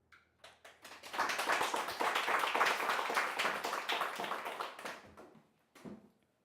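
An audience claps dense, steady applause for a scientific conference speaker, swelling quickly, holding for about four seconds, then thinning to a few scattered claps.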